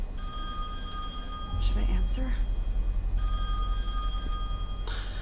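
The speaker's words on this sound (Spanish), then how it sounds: "El teléfono suena y no te habla nadie." A telephone rings in the survival horror video game Song of Horror, two bursts of a trilling electric bell over low rumbling ambience, with a person speaking faintly between the rings.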